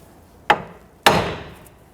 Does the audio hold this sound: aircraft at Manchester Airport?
no